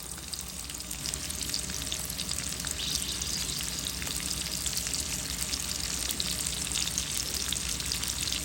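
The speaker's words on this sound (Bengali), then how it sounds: "দিয়ে দিলাম তেল পেঁয়াজ" Onions fry in hot oil in a pan, a constant close sizzle and crackle that swells slightly after the first second and then holds steady, with no one talking.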